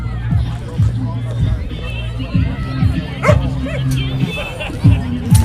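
A dog at a football match gives repeated short barks and yips, fairly close, over a murmuring crowd and talk.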